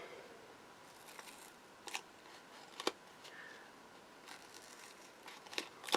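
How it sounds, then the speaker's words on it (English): Scissors snip through craft card and foam pads, giving a handful of sparse, crisp clicks and crunches spread over quiet, close and fairly faint. "Get my scissors and then cut these down."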